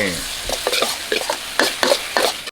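Pork belly stir-fried dry in a pan with spices, sugar and coriander: repeated spatula scrapes and clatters in an uneven rhythm over a steady close sizzle, with no one talking.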